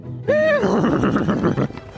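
A horse gives a loud, close neigh, opening with a high rising whinny and breaking into a shaky, fluttering tail that trails off after about a second and a half.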